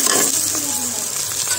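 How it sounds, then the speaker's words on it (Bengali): Boiled noodles tipped into a pan of frying egg, giving a loud close sizzle with stirring scrapes and a brief hiss as they hit the hot oil, no talk over it. "ডিম দিয়ে ভাজা হয়ে গেছে, এখন দিয়ে দিব ধুয়ে সেদ্ধ করে রাখা নুডলস"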